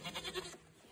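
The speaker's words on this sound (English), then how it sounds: "Out here, the goats are screaming." Goats on a farm bleat outdoors in the cold, a short burst of wavering, raspy calls at moderate distance that fades into background noise.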